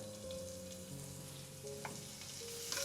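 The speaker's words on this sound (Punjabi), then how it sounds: "ਇਹਨੂੰ ਲਸਣ ਨੂੰ ਨਾ ਹਲਕੇ ਜਿਹੇ ਗੈਸ ਤੇ ਸਿਮ ਫਲੇਮ ਤੇ ਥੋੜਾ ਜਿਹਾ ਭੁੰਨ ਲਵਾਂਗੇ" Finely chopped garlic and a pinch of asafoetida fry gently in hot oil on a low flame, a soft steady sizzle with a few faint stirring taps, quiet and close, with a low tonal hum beneath.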